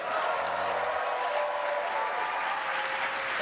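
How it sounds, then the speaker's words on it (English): An audience at a live podcast taping during a student liberty conference cheers and applauds. Dense clapping and crowd noise run steadily throughout, with a brief voice audible near the start. "I would appreciate it if everybody could cheer so they know we're not just making this up."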